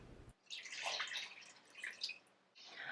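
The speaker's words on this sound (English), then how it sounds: "I'm going to add 1 1/4 of a cup of milk" A cup and a quarter of milk pours into a melted butter mixture for Newfoundland snowballs, giving a soft splashing, trickling stream for about two seconds, fairly quiet and heard alone.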